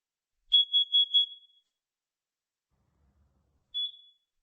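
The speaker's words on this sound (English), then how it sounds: "Now we're going to do our last smoke detector." A smoke detector under test gives three quick shrill high beeps close together, falls silent for a couple of seconds, then sounds one more short beep, clear and alone.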